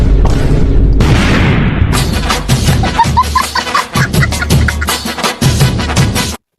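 Comedy-skit bomb explosion: a heavy boom opens, followed by a burst of crackling, rumbling blasts that fade out, loud and close.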